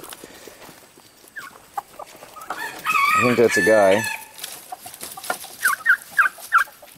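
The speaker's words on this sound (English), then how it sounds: "all the turkeys are out" Domestic turkeys out on a homestead, with several short bird calls in a quick cluster near the end, after a louder mid-clip stretch of tonal calling and a brief spoken remark over light outdoor background.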